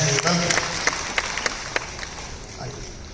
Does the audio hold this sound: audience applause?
yes